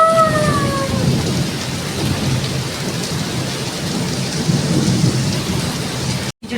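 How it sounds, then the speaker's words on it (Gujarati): Heavy thunderstorm with a steady downpour of rain and deep rolling thunder rumbling throughout, loud and close, with no talking. "જો વરસાદ ગાજે છે ને એટલે મેં વિડીયો ચાલુ રાખ્યો છે."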